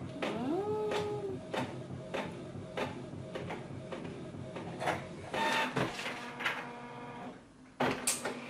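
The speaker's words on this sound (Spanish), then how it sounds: "lo voy a intentar sacar en la impresora en un folio normal para ver exactamente los tamaños" A home printer prints a design onto a plain sheet of paper, making a mechanical whirring with regular rhythmic clicks and feed pulses, while a cat meows nearby.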